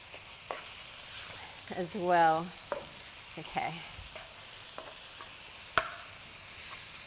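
Beef mince and chopped onion frying in a pan for a noodle stir-fry, a steady low sizzle with brief stirring clatter and scrapes, while a person speaks a few words nearby.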